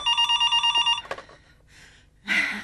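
A telephone bell rings in a rapid burst of trilling rings, then stops. Brief clattering and a louder noisy sound follow.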